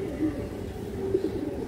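A domestic pigeon coos close by in low, soft, rolling tones, steady and unbroken, against a quiet background.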